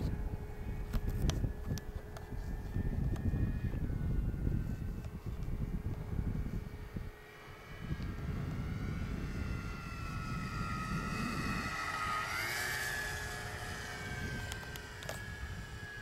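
Hobbyking B-17 Memphis Belle RC model plane flying, a continuous buzzing drone of small engines at moderate distance, rising and falling in pitch as it passes, with a brief quieter dip partway through.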